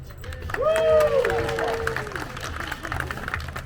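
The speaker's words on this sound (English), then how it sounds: "Polite applause." An audience at a Renaissance festival comedy show gives light, scattered clapping mixed with crowd murmur, while a performer's exaggerated voice carries over the top.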